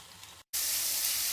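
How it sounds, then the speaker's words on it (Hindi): Onion paste for a fish karahi gravy sizzling in a pan, a steady hiss that cuts out briefly and returns louder and brighter. "प्याज को हमने हल्का सा फ्राई कर लिया है तकरीबन 5 मिनट।"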